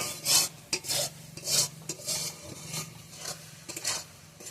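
Dry semolina slides and rasps as it is poured into a mixer jar in a home kitchen, a series of soft gritty scraping bursts with small knocks, close and fairly quiet, no voices.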